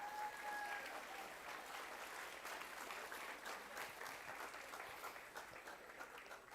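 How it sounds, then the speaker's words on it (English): An audience at a school academic quiz competition applauds, making steady dense clapping for several seconds. The applause is fairly distant and continuous, with faint voices mixed in. "a big round of applause to those 4 people"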